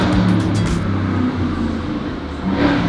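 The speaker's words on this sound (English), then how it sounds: "Nice quiet car. That was like right on cue." A car passes loudly near the 5 freeway in San Diego's Cortez Hill, a close, rising-and-fading engine and tire roar over constant traffic hum.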